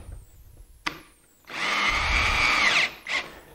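A power drill drives screws into a plywood base board: a sharp tap, then a loud whirring burst of about a second and a half, followed by a short second spin, close and alone.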